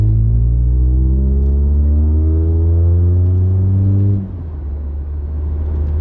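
A 2012 Mitsubishi Lancer SE AWD with a CVT accelerating in third gear, a loud, steady engine drone climbing in pitch for about four seconds, then dropping to a low rumble from inside the cabin.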